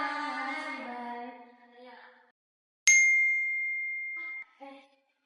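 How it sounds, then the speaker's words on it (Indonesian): A phone notification sounds as one bright, sustained ding that rings out and fades, with a short chime-like tone after it and a voice just before. "Udah dapat notifikasi dari ibunya nih."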